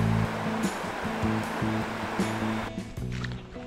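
Water flows steadily on the Thames River, a close, continuous rushing wash with a low rhythmic throb underneath, no voices.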